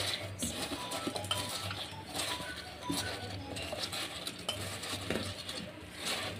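Sliced eggplant is tossed with turmeric and salt for baingan bhaja, giving continuous close scraping, clinking and stirring sounds of utensil against bowl with small irregular bursts and no talking.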